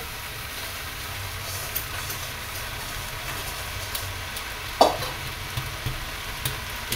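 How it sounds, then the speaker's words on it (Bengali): Leafy greens being stirred and fried in a pan during a home cooking session, a steady faint sizzle with soft scraping strokes and one sharper clink midway, no voices. "তো চলুন শাকটা একটু ঘেঁটে কমিয়ে নিয়ে বাকি শাকটা দেবো।"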